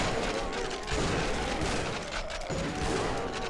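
Dense, continuous gunfire and explosions from a co-op zombie shooter video game called Zombie Village, a loud rapid barrage of shots and booms with no pause.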